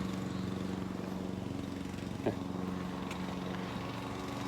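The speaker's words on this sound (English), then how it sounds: "Got a guy lawn mowing behind me." A lawn mower runs outdoors somewhere behind the recording spot, a faint, steady engine drone that hums on without pause.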